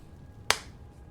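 A single sharp hand clap sounds in the Diablo 2 Resurrected video game, crisp and brief against a quiet background.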